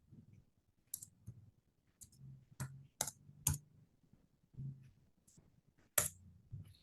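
Keys on a computer keyboard are pressed to enter a command, giving sparse, sharp clicks in irregular clusters against a quiet low hum.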